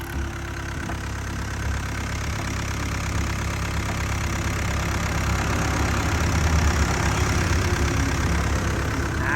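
The W04D diesel engine of a Sakai SW651 7-ton vibratory road roller idles steadily, a low throbbing rumble with a faint knocking rhythm, close and continuous with no talking.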